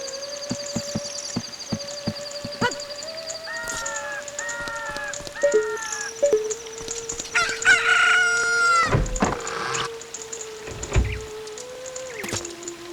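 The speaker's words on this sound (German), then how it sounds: "Da ein Gockel, der schreien kann." A rooster crows repeatedly in Zelda: Ocarina of Time, with stylized synthetic crows and clucks over game music, loud and clear with no talking.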